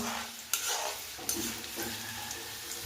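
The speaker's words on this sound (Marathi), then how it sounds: "बारीक चिरलेलं लसूण व्यवस्थित परतून घ्यायचा 1 मिनिट भरासाठी" Finely chopped garlic sizzles steadily in hot oil in a pan while being stirred, with a couple of sharp utensil scrapes over the constant frying hiss.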